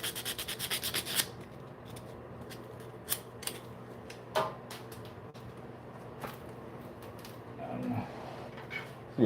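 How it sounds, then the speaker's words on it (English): Sandpaper scrapes over the bodywork of a British classic car, starting with a quick run of rhythmic strokes and followed by scattered rubs and scuffs in a quiet workshop. "See if this sandpaper is good enough."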